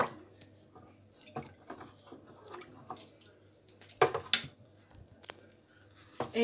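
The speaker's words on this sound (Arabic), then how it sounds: "هستمر في التقليب لحد ما يدوب كله كده معايا في الميه" Fabric softener mixture stirred in a container of water, soft intermittent sloshes, drips and liquid squishes with faint clinks, close and quiet.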